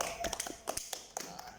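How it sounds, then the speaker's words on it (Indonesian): Scattered hand claps in a third-grade elementary classroom as pupils applaud group one, a brief cluster of close, uneven claps with short gaps between them. "tepuk tangan untuk kelompok 1"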